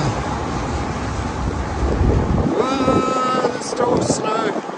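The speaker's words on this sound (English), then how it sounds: "it's so windy" Strong wind roars into the microphone on a snowy Tokyo street in the evening, a loud continuous buffeting rush that swells and gusts, with a person's voice and faint street sounds mixed underneath.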